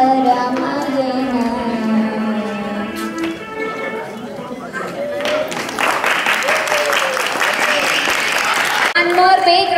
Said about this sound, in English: One more big round of applause to Teja